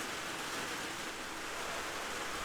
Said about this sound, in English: here we go in pretty much a downpour